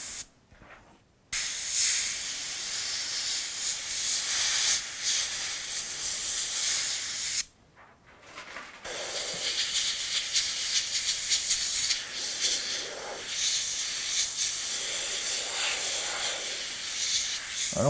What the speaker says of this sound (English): I'm going to run around the edges of the stencil with Wicked Violet